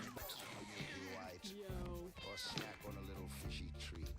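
A cartoon cat in the video game Mewgenics meows repeatedly in rising, warbling yowls, layered over game music and a talking voice.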